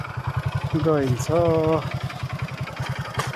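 A motorcycle engine running while riding, a steady low pulsing throb throughout, with a person talking over it partway through.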